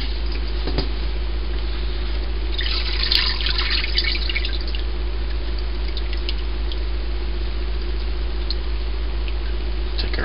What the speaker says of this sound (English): Now we need to let this drain.